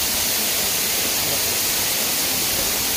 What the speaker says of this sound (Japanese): この滝の裏側にね、行けるみたいです。